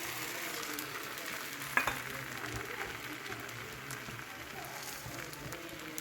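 Egg batter poured into a hot pan for jalar appam, giving a steady, close sizzling and frying hiss that runs the whole way, with one brief sharp clink early on and no talking.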